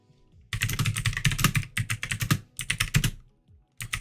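Quick bursts of typing on a computer keyboard, clattering keys in uneven runs separated by short pauses, close by.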